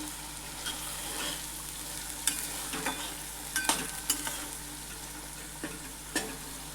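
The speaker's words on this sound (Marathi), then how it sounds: "आता हे वाटण आपल्याला छान परतून घ्यायचं आहे." Ground masala paste being sautéed in a pan for a drumstick (shevga) vegetable curry, giving a steady soft sizzle with occasional stirring scrapes and clicks, fairly quiet and with no voices.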